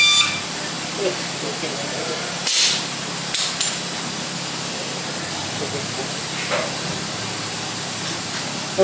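A spray gun lays a base coat of paint on the dash of a Belair, a steady close hiss with a few brief louder bursts, while a person speaks over it now and then.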